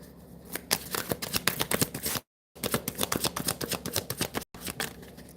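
Tarot cards being shuffled by hand, a dense run of quick crisp riffling clicks close up, broken by two brief silent gaps, with no talking.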